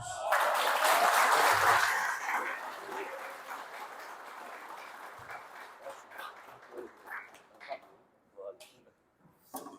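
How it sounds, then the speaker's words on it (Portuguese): Church congregation clapping for Jesus during a Portuguese-language service, a loud burst of applause at the start that fades over several seconds into scattered claps and background noise. "as palmas para Jesus"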